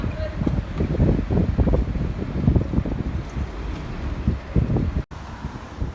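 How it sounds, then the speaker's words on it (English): Strong gusty wind buffets the microphone outdoors on a walk near Stanmore in north London, a loud continuous low rumble with fluctuating gusts that drops briefly near the end. "Suddenly got very windy"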